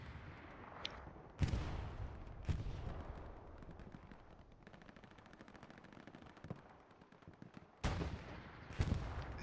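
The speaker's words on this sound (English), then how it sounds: "Is the artillery coming down?" Distant and near artillery fire pounds across a Hell Let Loose battle on Utah Beach, with several sharp heavy impacts spread out over a steady rattle of machine-gun fire.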